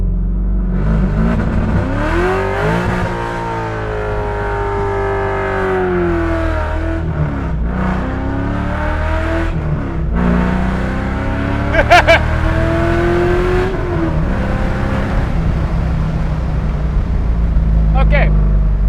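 A C5 Corvette without straight pipes does a burnout, its loud exhaust revving and climbing in pitch through repeated throttle surges, close and sustained, with tire noise beneath and people talking over it.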